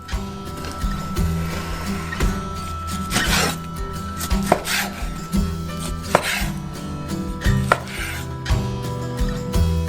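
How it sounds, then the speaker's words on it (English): A big swordfish fillet being chopped into small chunks on a board, firm repeated knife strokes landing in an uneven rhythm with scraping in between, close and clear, no talking. "One of the fillets is immediately cut into small pieces for the future fish soup."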